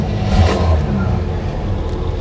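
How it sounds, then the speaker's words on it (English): A 1956 Chevy Nomad with a 265 V8 runs with a steady, fairly loud engine rumble and a brief swell early on, settling into an even idle, with no talk over it. "I think I'm going to start this thing up real quick so you guys can hear it."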